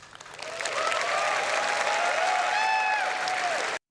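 A crowd applauds and cheers loudly, with whoops rising above steady clapping that swells in and cuts off abruptly.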